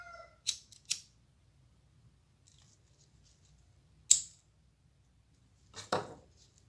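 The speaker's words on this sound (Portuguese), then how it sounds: "Vamos estar cortando aqui a pontinha." Sharp scissors snip through the tip of a satin ribbon for a bow: two quick close cuts, then a single snip, and a final longer rasping cut, with quiet pauses between.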